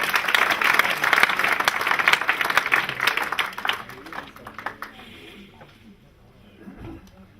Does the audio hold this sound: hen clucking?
no